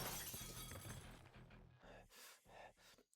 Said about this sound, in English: My back shatters the window and I roll out into the yard.